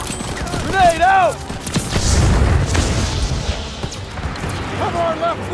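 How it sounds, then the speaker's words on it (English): A grenade going off in Call of Duty WWII gameplay: a deep, rumbling boom that swells and lingers amid battlefield noise, with a person shouting loudly over the action and chirpy game sounds around it. "Grenade out!"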